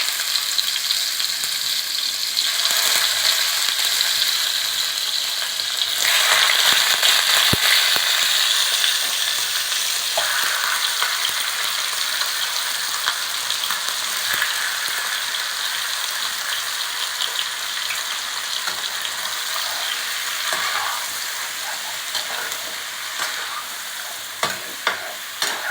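Marinated chicken pieces go into a hot pan with spice paste and fry with a dense, continuous sizzle, broken by repeated stirring and scraping for a long stretch with no talking.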